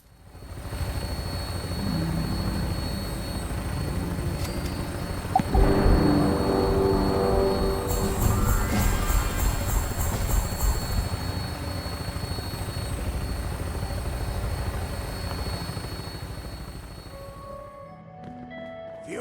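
An aircraft engine in Fallout 76's Atlantic City setting sputters to life, then rises into a loud, steady propeller drone that holds unbroken with no talking, before cutting off near the end.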